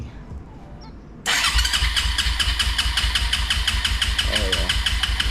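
A Suzuki LTZ250 quad's engine cranks and catches after a carburetor rebuild, then settles into a steady, even idle close by, with a brief voice in the background.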